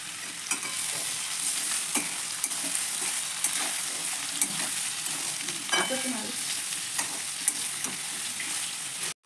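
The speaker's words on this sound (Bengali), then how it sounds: "পেঁয়াজগুলোকে আমি এখানে হালকা ব্রাউন করে ভাজবো" Chopped onions fry in oil tempered with a bay leaf in a wok, giving a steady moderate sizzle broken by repeated sharp scrapes and clinks of a stirring spoon against the pan.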